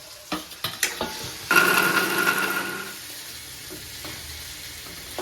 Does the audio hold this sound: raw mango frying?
yes